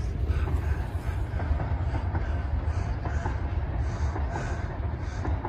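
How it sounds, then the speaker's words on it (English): A steady low rumble of a train rolling across a bridge near Oxford, with rhythmic clicking of wheels over track joints and a constant heavy drone throughout. "It's a bloody train"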